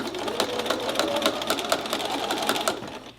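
Sewing machine stitching down a fabric pot holder, a fast steady run of needle clatter up close that holds for about three seconds and then stops.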